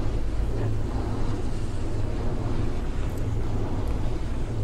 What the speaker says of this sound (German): Und wie man jetzt mit dem Mikrofon die Lüfter hört.